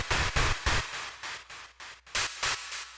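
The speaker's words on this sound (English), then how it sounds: "Two flavors of white noise." Hissing bursts of white noise from an Ummet Ozcan Genesis Pro synthesizer pulse on and off in short gated blasts, bright and steady, with brief silences between them.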